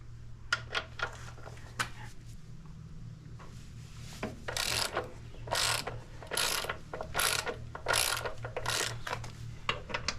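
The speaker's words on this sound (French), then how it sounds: "Donc là on va utiliser un outillage des douilles à cliquer." Ratchet wrench with a 17 mm socket working on an Indian Scout motorcycle's rear suspension, giving bursts of rapid clicking that start sparse and grow into several loud, regular ratcheting runs, close up with a low steady hum underneath.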